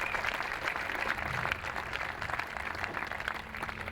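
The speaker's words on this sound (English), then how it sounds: "let's give a round of applause for the alumni" Applause for alumni at a groundbreaking ceremony for a university business education complex, a steady wash of clapping from an audience that carries evenly throughout.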